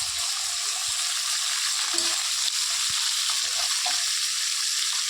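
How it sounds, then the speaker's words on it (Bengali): Bata fish fry in oil over a clay wood-fired stove, giving a steady, moderately loud crackling hiss with faint scattered taps and no speech. "তো মাছটা ভাজা হতে থাক"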